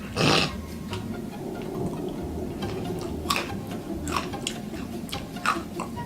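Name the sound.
chewing crunchy British crisps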